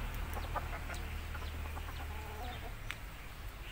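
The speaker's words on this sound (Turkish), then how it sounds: "Burada da bizim horoz. 2 tavuk." A rooster and two hens in a backyard coop give faint, scattered clucks over a steady low background hum.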